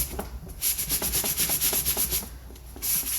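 Model rocket parts for an Estes Corvette kit are lightly sanded with 220 grit sandpaper, giving close, rhythmic back-and-forth rubbing strokes, about a dozen in quick succession with brief pauses and no talk.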